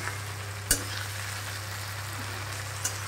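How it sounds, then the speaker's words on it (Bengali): Garlic fries in a pan with a steady soft sizzle and low hum, punctuated by two sharp stirring clacks, close but fairly quiet, with no talking. "এই যে এবার রসুনটাও দিয়ে দিলাম, দিয়ে একটু ভাজা ভাজা করে নিই"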